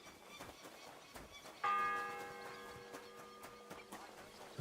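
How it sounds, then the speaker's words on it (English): One church bell strikes once in the video game Kingdom Come Deliverance, a clear tolling hit that rings out and slowly fades over low background ambience. "The first bell."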